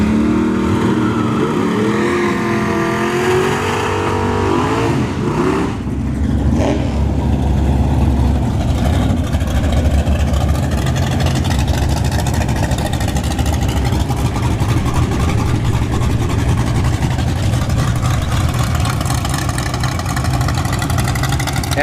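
Drag racers at a ShowTime Dragstrip test-and-tune session, a Nitrous Vega Wagon in the right lane and a Nova in the left, roar loudly with rising revs early on, then a sustained, heavy engine drone throughout.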